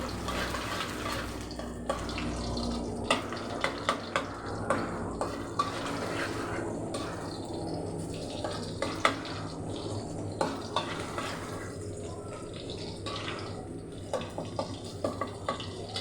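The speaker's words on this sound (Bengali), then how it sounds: "রসুন কুচিটা একটু ভেজে দিচ্ছি।" Chopped garlic frying in a pan gives a steady, moderate sizzle with scattered small pops and crackles throughout, with no voices.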